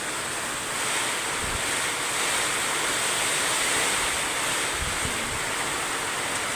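Strong wind from Typhoon Verbena roaring continuously, a dense loud rush with low gusty buffeting against the microphone, no voices.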